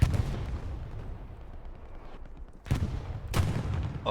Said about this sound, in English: I wouldn't know though which artillery it is firing here.